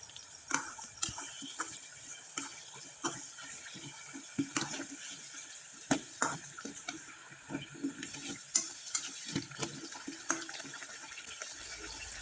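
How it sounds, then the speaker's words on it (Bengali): Rice flour pitha deep-frying in hot oil, giving a steady crackling hiss with scattered sharp pops and spatters throughout, close and moderately loud with no voices. "পিঠাগুলো একবারে মুচমুচে করে ভেজে নিলাম তবে একটু সময় নিয়ে ভেজে নিলাম"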